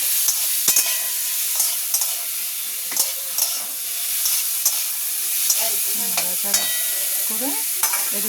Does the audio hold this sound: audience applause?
no